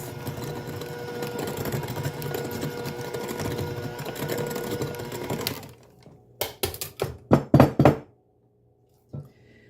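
An electric mixer whirs through creamed butter, sugar and egg for ginger molasses cookies, running steadily for several seconds, then cutting out into a few short bursts and a final brief pulse.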